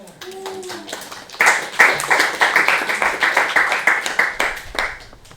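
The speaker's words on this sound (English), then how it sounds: "Very slow clap there." Several hands clap in a steady, unhurried rhythm, close and fairly loud, with a voice briefly at the start.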